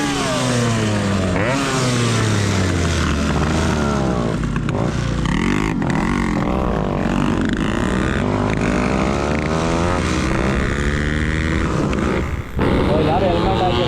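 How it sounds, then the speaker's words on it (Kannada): Yamaha RX two-stroke motorcycles ridden as a group in the rain, their engines buzzing and revving steadily throughout, rising and falling in pitch beneath constant wind and road noise, with someone talking over it. "ಈ ವೆದರ್ಗೂ ಹಿಂಗೆ ಹೋಗೋಕ್ಕೆ ಬರೀ RX 2 ಸ್ಟ್ರೋಕ್ಸು."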